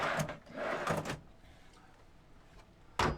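Drawers in a cupboard of a DIY camper van conversion slide and knock shut, a few brief close bumps and scrapes early on and one sharp final thud, with quiet room tone between.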